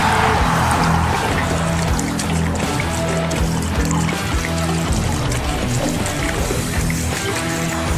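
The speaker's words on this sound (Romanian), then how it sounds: "și alimentăm cu combustibil." Diesel fuel pours steadily into the tank of a small ride-on 4x4 mini tractor with a KAMA diesel engine, a continuous close liquid gurgle and trickle lasting the full stretch without pause.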